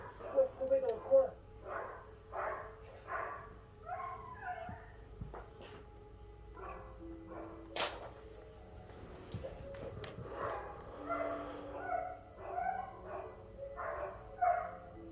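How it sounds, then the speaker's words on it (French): Dogs in the Fable video game bark, yip and whimper repeatedly in short rhythmic bursts across the scene, moderately close, under someone talking. "Fallait qu'il y ait des chiens qui gueulent."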